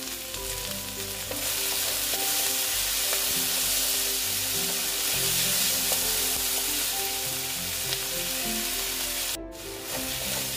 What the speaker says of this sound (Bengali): দেখো বন্ধুরা, পেঁয়াজটা মোটামুটি আমার ভাজা হয়ে এসছে।